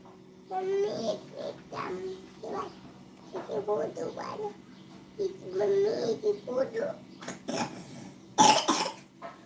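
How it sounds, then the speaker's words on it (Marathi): A child coughs amid babbling and adult speech, with a couple of sharp, loud coughs near the end. "खोकला येतोय तुला"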